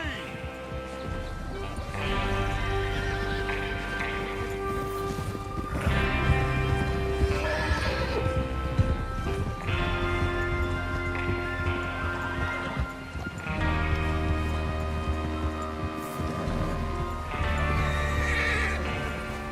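Horses neigh and whinny repeatedly over clip-clopping hooves in the Red Dead Redemption 2 video game, with several loud neighs at intervals against steady game music and ambience.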